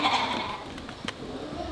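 Lambs bleat at feeding time on a small farm, a couple of short wavering calls over steady outdoor noise, moderately close.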